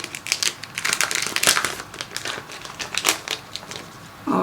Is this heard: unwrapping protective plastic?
yes